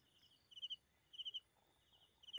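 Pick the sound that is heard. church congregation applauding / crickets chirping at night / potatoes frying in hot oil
crickets chirping at night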